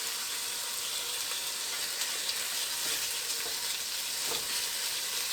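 Fat rendering in a hot pan gives a steady, dense sizzle and crackle with faint spits and pops, continuous and moderately loud with no voices.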